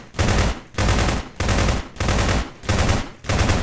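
Units in the Lambda Wars video game fire in sustained bursts of loud, close automatic gunfire, six distinct volleys each lasting about half a second with brief pauses between.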